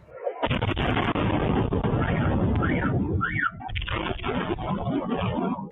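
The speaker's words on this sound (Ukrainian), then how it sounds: "Вибухи." Heavy rumbling explosions from strikes on Sevastopol, Crimea, before dawn roll continuously, loud and dense, with a voice heard faintly amid the booming.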